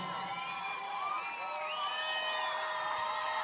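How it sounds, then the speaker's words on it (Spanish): At a concert, a large crowd cheers and shouts steadily, with high whoops and voices rising over the sustained roar. "Ese grito de la gente que está contenta esta noche."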